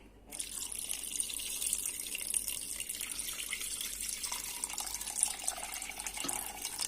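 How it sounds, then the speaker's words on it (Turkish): Water pours steadily from a tap into a pot of chicken, a continuous splashing rush that runs without pause. "Şimdi de tavuklarımızın üzerine geçecek kadar sularını ekliyoruz arkadaşlar."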